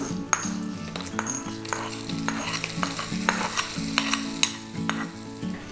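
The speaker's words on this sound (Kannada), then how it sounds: "ಈಗ ಇದಕ್ಕೆ ಒಗ್ಗರಣೆಯನ್ನು ಸೇರಿಸ್ತಾ ಇದ್ದೀನಿ" Hot tempering sizzles steadily as it is stirred into tambuli made from doddapatre leaves, with a close, continuous crackle and light clinks of a pan and spoon.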